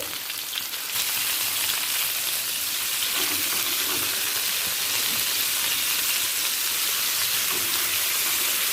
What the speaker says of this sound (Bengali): এরপর দিয়ে দেব পটলগুলোকে ভাজতে ভাজতে সেদ্ধ করে নেব